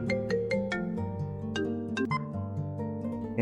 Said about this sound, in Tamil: ஒரு நாள் ஒரு ஃபோன் கால்